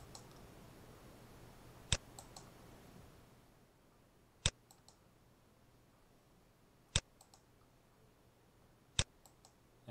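Four crisp, isolated computer mouse clicks spaced about two to three seconds apart, close and sharp against a quiet room background with faint hiss.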